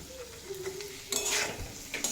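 Chopped tomatoes fry in a pan for a vegetarian drumstick curry. A soft, steady sizzle runs under a spoon or spatula stirring and scraping, with a louder scrape partway through.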